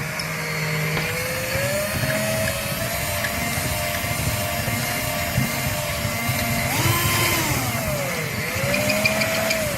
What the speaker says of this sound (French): comme la mèche est quand même assez grosse, je vais faire un petit peu l'arrondi vite fait, sans trop appuyer